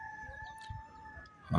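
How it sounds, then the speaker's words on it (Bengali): Rooster crowing faintly in the background of a hill village near a forest, a distant drawn-out call over quiet ambience, with a louder knock or rustle near the end. "পেছন থেকে মোরগের ডাক।"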